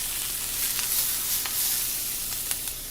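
Diced onions sweating in extra virgin olive oil in a pan give a steady, close, fairly soft sizzle with a few faint crackles and stirring ticks, no voices.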